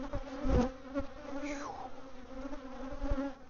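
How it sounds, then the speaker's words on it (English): Honey bees buzz right around a beekeeper at the hive, a close, steady insect drone with a few louder passes as individual bees fly near, no talk. "You probably can hear them buzzing me."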